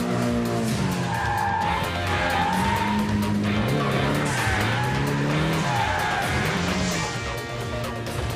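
A race car slides through a controlled skid on a racing circuit, its tires squealing loudly and continuously over the straining engine, with pitch bending up and down through the drift.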